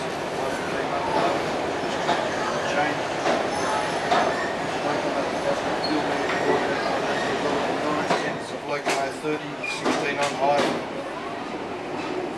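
Steam train departing Sydney Terminal for Thirlmere, heard on board: steady rumbling carriage noise with rhythmic wheel clacks and occasional hissing bursts, while people talk over it throughout.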